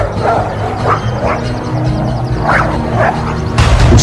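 Dog packs meeting in a yard, voiced as an audiobook sound effect, give several short yips and barks with low growling throughout, loud and close, ending in a sudden burst of noise.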